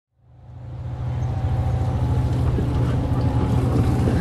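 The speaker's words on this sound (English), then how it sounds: "You can hear the engines." A steady, low boat engine rumble starts up and holds at a constant drone while mooring lines are slipped for sailing in Greece, with faint wind noise over it and no voices.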